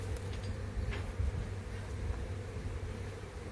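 Carniolan honey bees buzz densely around their hive during a colony split, a steady close drone with a few louder passes of individual bees.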